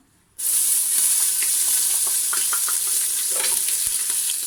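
Onion dropped into hot oil in a cooking pot for harira soup bursts into a sudden loud sizzle after a brief silence, then keeps up a steady crackling hiss with small pops.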